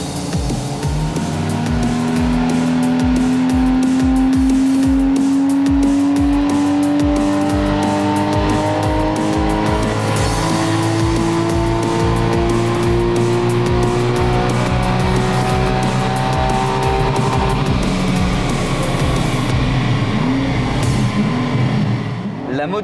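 A tuned Porsche 981 Cayman 2.7 engine on a dynamometer revs hard and climbs steadily in pitch, loud and sustained, with a popping exhaust rhythm before cutting off.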